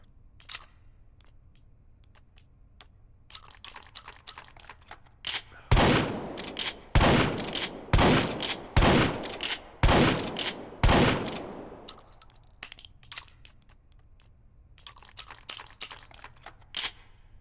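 A classic TF2-style shotgun fires about six loud, sharp blasts in quick succession in H3VR, each with a short decay, framed by quieter mechanical clicks and handling noise before and after.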